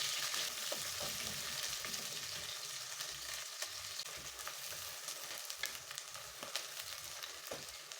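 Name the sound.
chopped onions sautéing in oil in a sufuria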